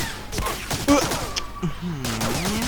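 Gunfire in the World War II shooter Medal of Honor: Breakthrough, a short burst of shots mixed with game music and effects, with someone talking excitedly over the action.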